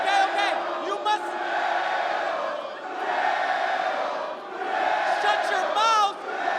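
Wrestling arena audience at a TNA event producing a sustained loud roar of cheers and shouts that swells and dips in waves, with voices mixed into the noise.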